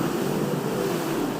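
A beach-waves sample plays from a Mazetools sampler: a continuous, even wash of surf and breezy noise with no speech.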